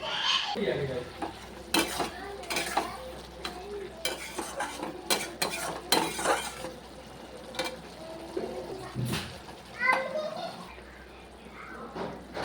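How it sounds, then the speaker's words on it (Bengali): Small fish sizzling in a pan of bitter gourd curry, a soft steady fry broken by repeated clinks and scrapes of a stirring spoon against the pot. "এর মধ্যে আমি কয়েকটা ছোটো মাছ দিয়ে দিচ্ছি।"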